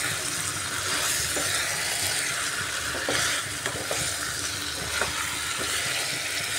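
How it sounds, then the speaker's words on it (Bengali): Chicken pieces with bottle gourd are stirred in a hot pan. A constant loud sizzle is broken by occasional scraping stir strokes, close up and without speech. "লাউ দিয়ে ভালোভাবে এইভাবে নাড়িয়ে পুরো কষা করে নিতে হবে চিকেনটাকে"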